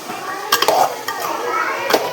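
Cooked, tempered chickpeas with fresh coriander are stirred in a metal pot, a spoon scraping and clinking against the sides in a few sharp knocks over a soft, steady background.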